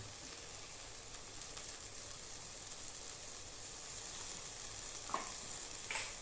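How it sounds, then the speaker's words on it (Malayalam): Tomatoes frying with spice powders for chicken masala, a quiet steady sizzle and hiss with a couple of faint scraping stirs near the end. "അതിലേക്ക് ഇനി പൊടികൾ ഇടാം. ഒന്ന് ഇളക്കുക."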